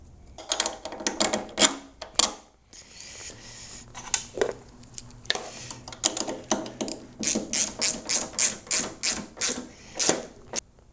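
Ratchet spanner tightening a bolt on a BMW R1150GS motorcycle during fuel tank removal: rapid, close clicking bursts, first irregular and then a steady run of rhythmic clicks, no talk.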